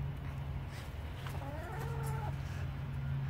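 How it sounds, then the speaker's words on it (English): A chicken gives a short, squawky call over a steady low hum, with faint clucking in the background; no one speaks. "All the other chickens are really sad and really squawking a lot."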